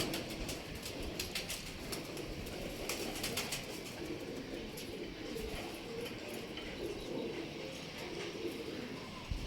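A golden teddy cross pigeon coos softly amid steady outdoor background noise, faint and low throughout.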